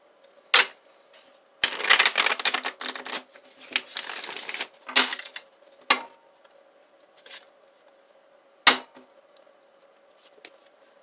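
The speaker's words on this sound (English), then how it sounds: "going to give it 2 shuffles" Tarot cards riffled and shuffled in two quick bursts, crisp papery flutters close by, with a few taps and card slaps between, no talking.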